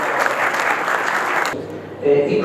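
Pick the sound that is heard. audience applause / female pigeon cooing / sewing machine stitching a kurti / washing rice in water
audience applause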